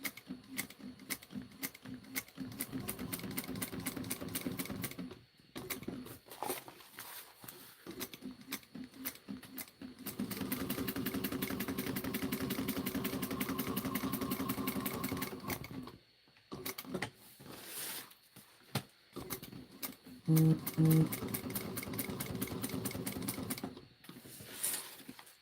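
Sewing machine stitching a bag with trim, a rapid rattling run broken by brief stops and restarts, close and steady throughout.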